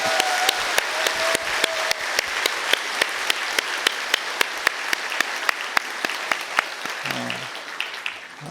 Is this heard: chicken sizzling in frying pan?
no